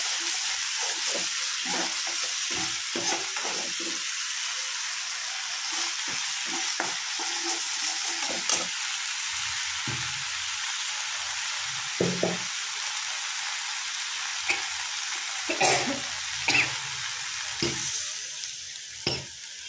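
A spice paste for prawn malai curry, prawns cooked in coconut milk, sizzles steadily in a hot pan. Sharp clacks and scrapes of stirring break in at irregular intervals, with no talking.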